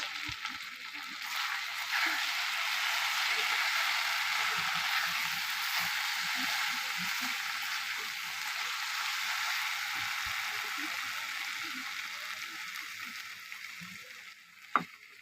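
Mutton being sautéed with biryani masala for mutton biryani gives a steady, close sizzle with scattered scrapes and light clicks of stirring throughout, and one sharp knock near the end.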